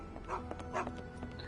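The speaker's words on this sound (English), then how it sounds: "That's a dog." A dog in a Sherlock Holmes video game gives several short yips and whimpers in quick succession, close and moderately loud.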